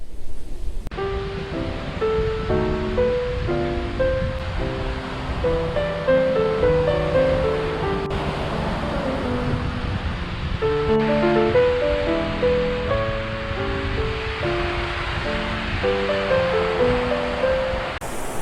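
Continuous broadband wash of surf rolls on steadily at a beach near Rome, with gentle melodic music layered over it and no talking.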